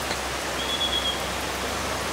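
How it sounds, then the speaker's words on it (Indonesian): Rain falls steadily in Jogja, a soft, even hiss of drops on surfaces that stays constant throughout, with a faint high tone briefly in the background. "Hujan juga nih Jogja."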